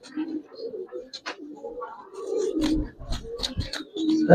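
Giribaz pigeons coo in soft throaty bursts, joined midway by louder rustling, flapping and knocks from the birds nearby.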